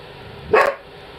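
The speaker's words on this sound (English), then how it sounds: "Goddamn dog. Damn it, dog!" One dog lets out a single loud, sharp bark close by, standing alone over a steady low room hum.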